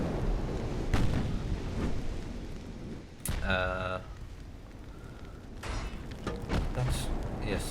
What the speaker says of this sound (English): both secondaries and main batteries are shooting AP for some reason